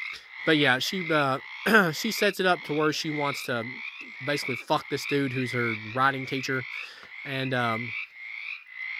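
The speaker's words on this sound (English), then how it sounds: "if you hear frogs or anything in the background" A chorus of frogs croaks steadily outside at night, a continuous high chirring that stays in the background while someone talks over it throughout.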